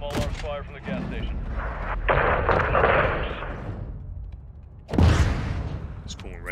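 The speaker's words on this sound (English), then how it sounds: "Small arms fire from the gas station." Small arms gunfire during a firefight at a gas station in Call of Duty Modern Warfare 2, with rattling bursts and booming shots mixed with radio-style game voices speaking over the combat.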